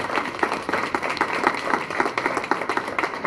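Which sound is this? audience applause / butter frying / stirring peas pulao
audience applause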